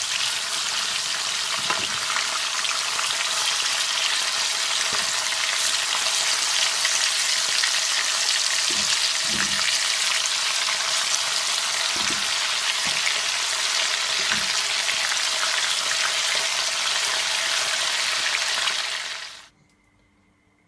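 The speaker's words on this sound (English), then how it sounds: "I'm just gonna allow them to fry for at least 4 minutes on each side" Chicken pieces sizzle loudly and continuously in hot oil, with a few soft clanks of a utensil, before the sound abruptly stops.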